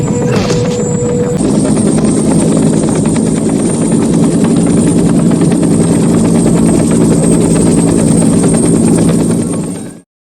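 Loud, steady thrum of a helicopter passing overhead, rotor chop and engine whine holding constant for the full duration before cutting off.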